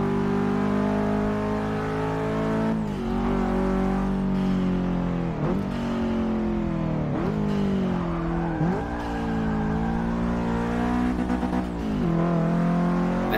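A racing car in Forza Motorsport 6, driven with a Logitech G920 wheel, revs loudly and steadily; the engine note drops abruptly at several rough, clunky gear changes, with some tyre squeal.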